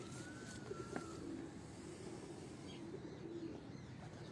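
Pigeons on a rooftop give soft, faint low coos, a couple of brief calls over quiet background noise, with a thin chirp nearby.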